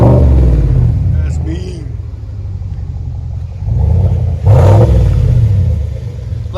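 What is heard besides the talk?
2020 GMC Sierra AT4 6.2L V8 revving, Flowmaster FlowFX dual exhaust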